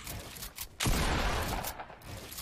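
Gunfire in the Fortnite video game, a loud burst of shots that holds steady for over a second before tapering off, with no talk over it.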